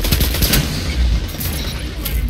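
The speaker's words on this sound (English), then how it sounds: "This man missed his shotgun and just let me gun him to death." Rapid gunfire in a video game shootout, a dense burst of sharp automatic shots rattling close and loud for about two seconds without a break.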